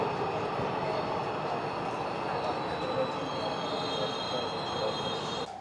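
Warsaw metro line 1 train running underground toward Ursynów station, a steady loud rumble of wheels on rails with high metallic whine and squeal throughout, dropping slightly at the end.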